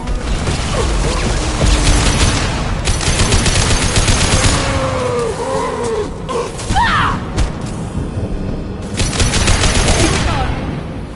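Gunfire from the PS5 version of the video game Mass Effect 2 fills the scene, with loud, close bursts of rapid automatic fire broken by short pauses and a few clanking crashes.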